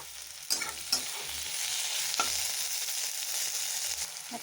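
Chopped tomatoes sizzle in hot oil with onion and garlic for a small-fish tomato chorchori, a steady close frying hiss broken by a few sharp spatters and stirring scrapes, with no talking.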